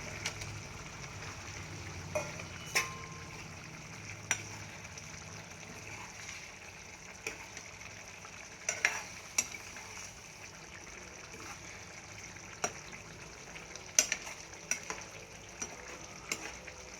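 Fried eggs are added to a simmering egg pulusu curry and stirred in the pan: a soft, continuous sizzle with scattered sharp spoon-on-metal clinks, quiet and close.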